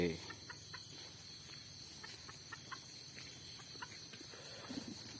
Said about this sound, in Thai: มีไก่ต่อ